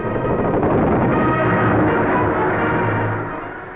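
Naval gunfire as a cruiser's guns keep firing on a crippled Italian ship, heard in a 1941 wartime film soundtrack: a dense, loud, continuous roar of bursts and rumble, steady throughout and easing slightly at the end.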